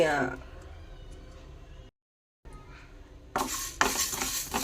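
Ingredients fry and are stirred in a pan for a coriander chutney, giving soft sizzling and scraping under a woman's speech, broken by a short silent gap and then a louder, closer sizzle near the end.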